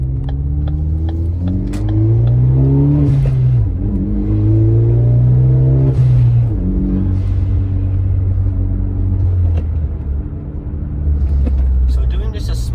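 A Ford Focus ST fitted with a CPE stage 2 rear motor mount accelerates gently from low revs, its engine rising in pitch with a loud rumbling drone under continuous talking.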